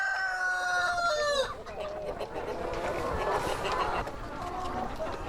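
A rooster crows loudly and close at the start, then a flock of hens keeps up a busy clucking. The birds are egg-laying chickens on a farm where one rooster leads about ten hens.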